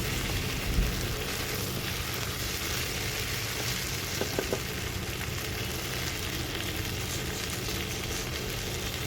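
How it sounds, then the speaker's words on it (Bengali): Spice masala fries in a pan with jackfruit and potato, giving a steady, dense sizzle throughout, with a few faint stirring clicks near the middle and no voices. "মশলাটা এবার খুব ভালো করে এই চোড়ার আলুটার সঙ্গে আরেকটু ভাজা ভাজা করে নেব"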